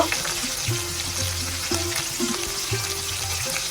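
Soft, steady sizzle of oil heating in a wok, with a low hum underneath and no talking.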